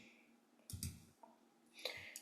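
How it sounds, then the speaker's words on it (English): Hard keyboard typing and mouse clicks at a computer during screen-sharing, a few sharp, close taps and clatters separated by short pauses in a quiet room. "So please bear with me if you hear like hard typing and clicking and all of that stuff."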